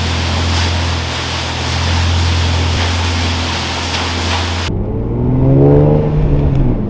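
Pressure-washer spray at a car wash hitting a filthy BMW with a widebody kit, a loud steady hiss that cuts off abruptly, followed by close splashing and rushing water with no talk.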